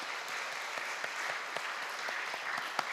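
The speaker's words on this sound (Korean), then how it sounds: "박수로 하나님께 영광 돌리겠습니다." A church congregation claps in praise during a worship service, with individual sharp claps standing out from a steady, moderately distant wash of applause throughout the room.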